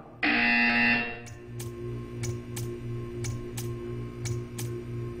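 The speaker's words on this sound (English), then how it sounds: "When you hear the buzzer, stare at the art." A buzzer in the video game Portal 2 sounds in one loud, sustained electronic burst, then stops. A steady hum follows, with faint, evenly spaced ticking clicks.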